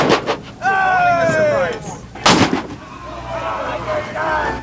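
Cannon fire aboard the Canadian brigantine Fair Jane: loud booming shots near 0.1 s and again near 2.3 s, with shouted voices in between and a harmonic horn-like tone sustained across the middle.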